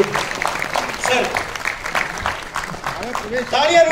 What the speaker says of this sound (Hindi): एक बार उन तीनों के लिए जोरदार तालियां